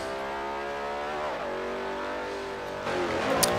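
A Ford car engine in Forza 4 on the Nürburgring holds a steady, sustained drone at hovering throttle, then a pitch dip and a slight rise as the throttle changes, loud and continuous with no talk.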